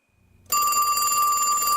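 A video phone rings out abruptly after a brief near-silence, a loud electronic tonal ring that holds steady once it starts.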